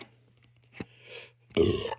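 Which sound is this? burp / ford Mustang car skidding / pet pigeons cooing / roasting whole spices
burp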